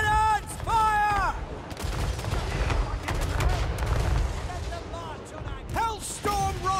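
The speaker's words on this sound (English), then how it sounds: "Cannons fire!" Artillery cannons fire in a Total War Warhammer 3 battle, a dense run of booming shots and crackling blasts layered together, with shouted game voices calling out over the barrage.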